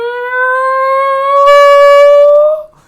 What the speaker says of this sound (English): You hear police sirens.